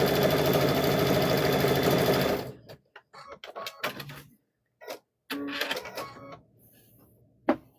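Sewing machine stitching a quarter-inch seam across the top of a 2.5-inch fabric strip, a loud fast continuous whir for a couple of seconds, then stops, followed by scattered handling clicks and short bursts.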